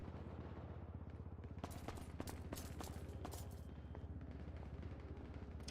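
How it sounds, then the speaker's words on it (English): Rapid bursts of video game gunfire crackle in quick succession over a low steady hum, fairly faint, distant and echoing, with brief pauses between volleys. "That's gunshots."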